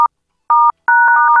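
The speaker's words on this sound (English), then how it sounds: "Here, maybe I can hit some touch tones." Telephone touch-tone dialing: three dual-tone beeps, two short and crisp, the last held longer with a wavering pitch, loud and close with no talk.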